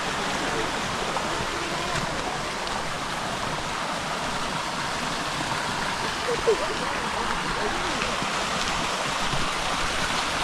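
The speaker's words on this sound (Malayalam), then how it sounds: "അരുവി ഇങ്ങനെ ഒഴുകുന്നത്, നല്ല സൗണ്ടാണ്" A stream in Amboori near the Aanakulam waterfalls, Trivandrum, rushes in a steady, dense broadband wash of flowing water that holds loud and even throughout, with no talk over it.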